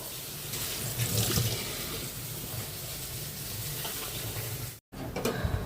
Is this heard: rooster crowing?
no